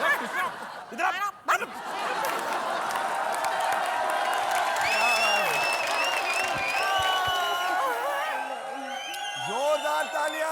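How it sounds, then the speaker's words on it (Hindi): Studio audience at a Hindi TV comedy show applauds and cheers loudly and continuously, with bursts of laughter mixed in and voices talking over the clapping. "जोरदार तालियां, जोरदार तालियां।"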